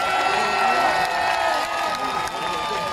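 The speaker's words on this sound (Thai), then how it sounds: "ขอเสียงปรบมือให้กับท่านสอสิวรัตน์หน่อยได้หรือไม" A large outdoor crowd at a political rally at SCB Park Ratchayothin, Bangkok, claps and cheers for Sulak Sivaraksa, a steady dense roar of applause with shouts and whoops running through the whole stretch.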